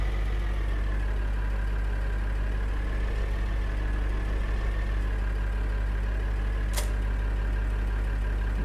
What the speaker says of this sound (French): Ce tracteur là il me gêne, hop dégage le tracteur.